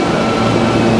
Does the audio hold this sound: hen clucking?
no